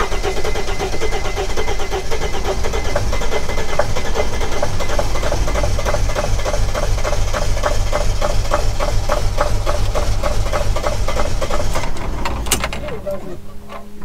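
A Mercedes Sprinter T1N van with a no-start problem cranks with a loud, rapid rhythmic churning for several seconds, then quickly winds down to quiet, close by.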